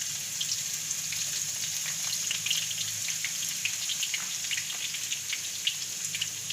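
Ginger and garlic dropped into hot oil with cloves and cumin, giving a continuous dense hiss of frying, fine rain-like crackles throughout, close and steady with no talking.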